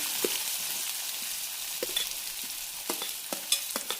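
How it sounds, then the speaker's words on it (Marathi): Steady sizzling of onion frying in hot oil, with occasional clicks and scrapes of stirring, and no voices. "आता आपण ह्याच्यामध्ये कांदा घालून घेऊया."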